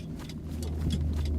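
In a video game, a car engine drones low and steady as the vehicle approaches, a brief rumbling hum without talk.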